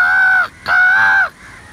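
Two long, harsh crow caws ring out close and loud, one after another with a short pause, as crows begin arriving.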